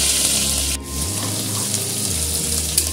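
Garlic drops into hot oil after deep-fried chicken, a steady bright sizzle and crackle over a low kitchen hum, close and continuous throughout.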